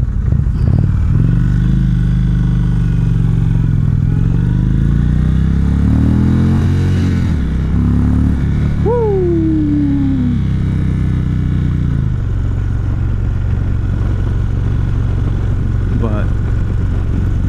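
An Indian Roadmaster motorcycle engine on a demo ride at Americade, a steady loud low rumble with rising and falling revs and gear shifts, wind noise over it, and someone talking throughout.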